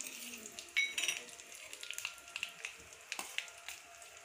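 Cumin and mustard seeds fry in hot oil, giving a soft crackling sizzle with scattered small pops and a few faint clinks of a utensil against the pan.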